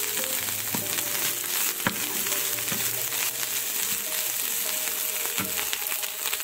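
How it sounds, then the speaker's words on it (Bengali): Dried kachki fish frying in a pan with a steady loud sizzle, broken by occasional scraping and stirring clicks. "শুটকিগুলোকে খুব ভালো করে ভেজে নিতে হবে"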